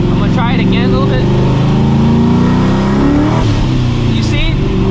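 A 600HP New Edge Ford Mustang GT on Toyo Proxes TQ tires makes a hard pull in the rain with wheelspin, its engine roaring loud and continuous as the revs climb, heard up close from inside the car.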